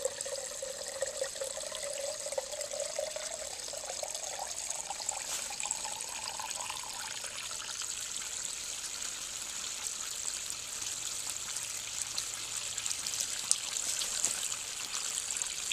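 Water runs steadily into a jug during a flush water-usage test on a 1970 American Standard Cadet toilet, a continuous close trickling and pouring with no talk.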